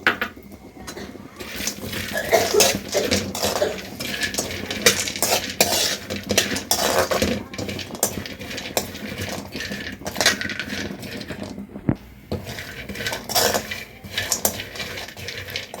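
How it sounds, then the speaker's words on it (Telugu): Cashews and almonds roast dry in a pan over low heat, stirred with a utensil that clinks and scrapes against the metal as the nuts rattle and tumble close by. "జీడిపప్పు కొంచెం వేగిన తర్వాత బాదం పప్పు కూడా వేసేసుకుంటున్నాను"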